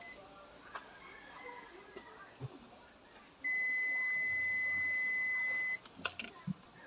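Multimeter on its continuity buzzer setting, testing household wiring for a short: one steady, shrill beep lasting a couple of seconds, standing out against quiet room noise and small clicks.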